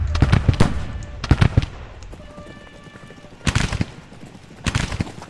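Artillery cannon fire in a Gettysburg Civil War battle video game: sharp booming volleys in clusters, several close reports near the start, a pause, then two more heavy bursts with rumbling tails.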